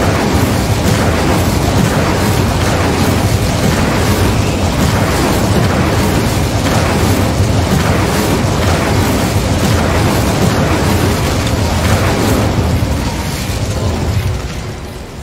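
Depulsor and Incendio spell blasts from the Hogwarts Legacy video game, a loud, dense wash of booming bursts and crackling impacts that runs almost without a break and fades slightly at the end.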